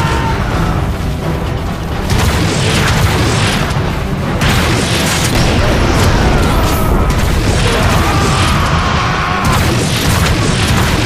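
A rocket explodes in the Transformers: Fall of Cybertron video game, loud rumbling booms and crashing blasts layered over continuous battle noise throughout.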